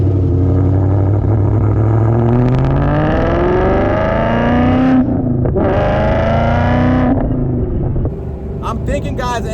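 A 2004 Ford Mustang Cobra with a swapped Coyote V8 revs hard on the road, its loud engine note climbing and holding steady with a heavy rumbling drone, briefly dipping before surging again as the car drives on.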